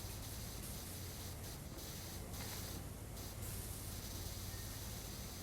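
A power washer sprays in Power Wash Simulator, giving a steady, unbroken hiss that runs loud and even from start to finish, with brief shifts in tone as the spray moves.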